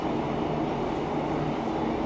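A TransPennine Express train coming to a stop at Gainsborough Central station, heard from inside as a continuous rumble of rolling wheels and carriage noise.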